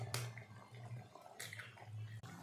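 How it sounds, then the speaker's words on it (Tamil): Five eggs are cracked and poured into a pot of simmering Tamil egg curry. Faint liquid splashes and soft cracks sit over a low steady hum, with no voices. "5 முட்டையை உடச்சி ஊற்றிட்டேன்."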